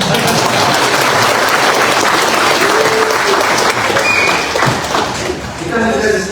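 Dense, steady applause from a large audience at a national party working meeting, filling the hall for several seconds and thinning slightly near the end, with voices mixed in.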